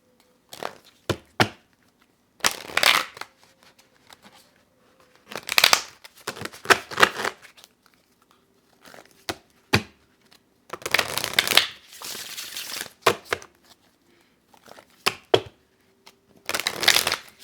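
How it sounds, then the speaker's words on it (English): A deck of tarot cards shuffled by hand in repeated bursts of riffling and slapping, close and fairly quiet, separated by short pauses, with no talking. "Let me pull some love cards for you."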